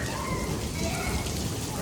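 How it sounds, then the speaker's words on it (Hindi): Small hailstones fall on a rooftop with metal sheets during a violent storm, a constant dense patter like heavy rain that stays loud and even throughout. "अभी ये छोटे छोटे आ रहे हैं ओले"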